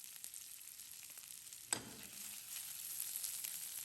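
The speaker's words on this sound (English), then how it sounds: "Just going to stir that a bit and then take that off the heat" Parsley frying in a pan and being stirred, a soft continuous sizzle with a single clear scrape or tap of the utensil midway, fairly quiet and close.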